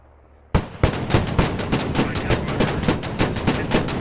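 Rapid cannon fire from a ZBD infantry fighting vehicle and a Bradley in a video game: an abrupt loud start, then a dense run of sharp, evenly spaced bursts that continues to the end.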